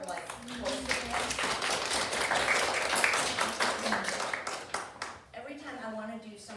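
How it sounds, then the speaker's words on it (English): An audience at an event gives the host a round of applause, a dense burst of clapping that swells in the middle and then fades, with talking heard before and after it. "give Valerie a round of applause for like hosting it"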